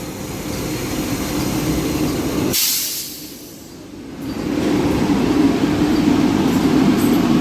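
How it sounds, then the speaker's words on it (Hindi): A Varanasi–Deoghar Vande Bharat Express overtakes the Danapur Sahibganj Intercity Express, heard from aboard as a steady loud rolling rumble with a sudden hiss and brief dip as the passing train rushes by, then the roar swells back. "तो हमारी दानापुर साहिबगंज इंटरसिटी एक्सप्रेस को ओवरटेक कर रही है वाराणसी देवघर वंदे भारत एक्सप्रेस"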